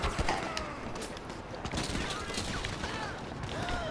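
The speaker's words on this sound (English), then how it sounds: "There's a gang attack" Scattered gunfire rattles through a gang attack in the GTA video game, a dense, busy mix of shots and mechanical clatter at moderate level with a voice talking over it.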